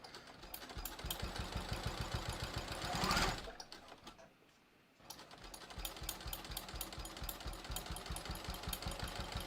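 A sewing machine stitches a clear vinyl project bag in fast, even mechanical pulses, running steadily, pausing briefly near the middle, then resuming at the same close, busy rhythm.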